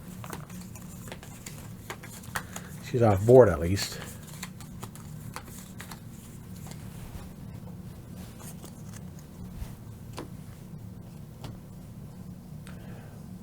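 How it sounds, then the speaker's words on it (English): A deck of cards for a solo Star Wars: The Clone Wars board game riffled once in a brief close burst of quick flutter, with light ticks and handling noises and a soft voice talking briefly around it. "So I shuffle this up"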